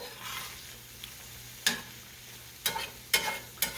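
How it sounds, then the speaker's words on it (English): Sausage frying in a skillet gives a soft, steady sizzle, broken by a few sharp scraping clicks of a utensil against the pan near the end. "I'm going to let this sausage cook for another minute or two"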